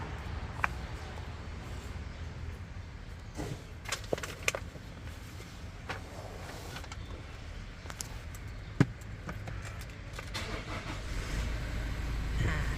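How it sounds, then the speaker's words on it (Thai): A Toyota Majesty 2.8 Premium van engine runs with a steady, low, soft rumble. Scattered small clicks and knocks sit on top, and the rumble swells slightly at the end. "เดี๋ยวไอสตาร์ทรถให้ชมนะคะ"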